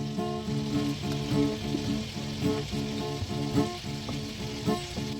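Chicken sizzles and fries steadily in a pan, a close, continuous crackle with faint stirring and no voices.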